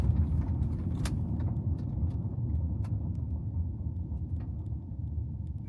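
A Zeekr 7X drives over a gravel surface, a steady loud rumble of tyres on loose stones with faint crunches and pings throughout, heard from inside.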